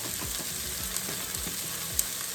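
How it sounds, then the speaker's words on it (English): Pasta stirred through fajita sauce in a hot pan gives a steady sizzle, with low scraping strokes repeating about every half second and a small clack near the end, close and with no voices. "Give that a good stir. Get those nice and coated."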